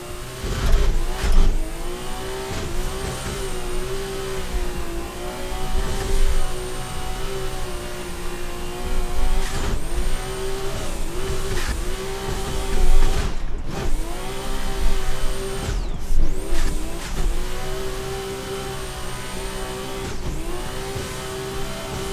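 Toyota Supra drift car in a racing video game engine-revving steadily through a lap, loud and continuous with rising and falling pitch as it accelerates, with occasional tire squeal.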